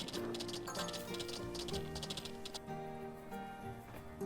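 Horse hooves clip-clop in the farming video game Story of Seasons: Grand Bazaar, a quick, light, rhythmic patter over the game's cheerful background music, which continues alone after the hoofbeats stop.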